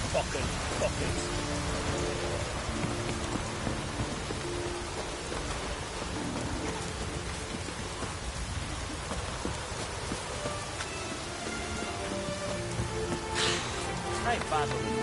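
Steady, hissing rainfall in a PS4 video game fills the scene, with a faint rumble beneath and a brief louder burst near the end.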